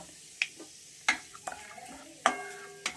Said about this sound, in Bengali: আমি হালকা একটু ভেজে নিচ্ছি